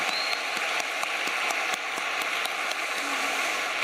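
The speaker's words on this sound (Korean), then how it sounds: "하나님께 영광의 박수 한번 올립시다" A congregation applauds at a Korean Christian soldiers' national prayer assembly, a steady dense wash of clapping that holds at an even level throughout with no voices over it.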